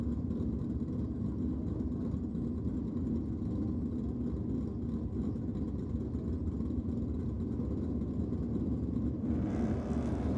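Big block Chevrolet and big block Plymouth drag racing cars at a Sydney drag strip championship round give off a steady, distant engine rumble that holds level throughout, with a brighter edge rising near the end.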